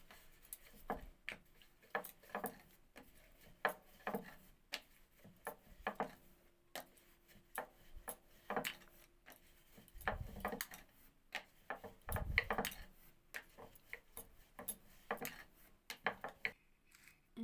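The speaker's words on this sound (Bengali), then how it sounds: "তেল দিয়ে একটা একটা করে বেলে নেব" Pea-stuffed kachori dough rounds, oiled and rolled one at a time with a rolling pin, give soft repeated wooden knocks and rolling thumps in an irregular rhythm, close and fairly faint.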